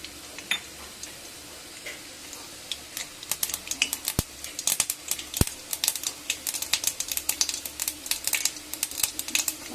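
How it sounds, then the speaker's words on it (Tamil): Mustard seeds in a little hot oil in a pan, prepared for a star gooseberry pickle, start with scattered pops that build into a dense, rapid crackling spatter. "வானலியில் கொஞ்சமாக எண்ணெய் விட்டுருக்கணும். கடுகு போட்டுக்கணும்."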